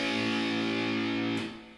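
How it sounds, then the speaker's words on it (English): A sustained, heavily distorted electric guitar major power chord in a microtonal tuning rings out loud and steady, then is cut off abruptly near the end. "that's a major power chord"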